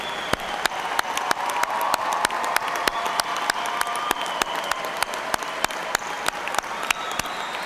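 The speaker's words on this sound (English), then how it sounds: "Let us applaud your accomplishments." Applause from a large audience at a university spring commencement ceremony, a steady wash of clapping in a big hall with distinct sharp claps standing out throughout.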